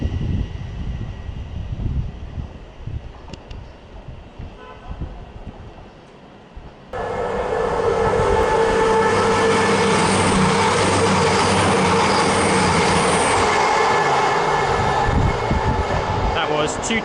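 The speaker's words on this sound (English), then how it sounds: "That was 222-019 with an East Midlands Railway service to London St Pancras" An East Midlands Railway class 222 unit, 222-019, runs through West Hampstead Thameslink toward London St Pancras. Quieter station ambience gives way to a sudden loud, sustained roar with droning engine tones and wheel noise as it passes close by.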